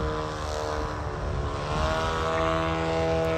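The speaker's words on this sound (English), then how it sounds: "it's supporting the weight of the aeroplane with the thrust from the propeller" A 52% scale Skip Model Designs Ultimates aerobatic model aeroplane hovers in a prop hang, its engine and propeller giving a loud, steady droning buzz that swells slightly as the throttle holds it up.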